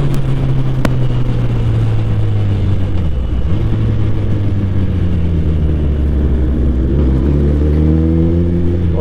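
A Kawasaki ZX-10R superbike rides along a road, its engine a steady loud rumble with shifting pitch as it pulls ahead, heard close and continuous with no talking.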